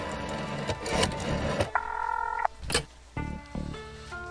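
Telephone dialing in the Darkside Detective game: a handful of distinct, evenly spaced dial tones with short clicks between them, clear and close with no voices.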